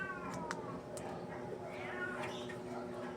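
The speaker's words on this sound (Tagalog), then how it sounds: "Meow, sabi ng pusa" A house cat meows several times in short, fairly faint calls over a steady low background hum, with faint talk alongside.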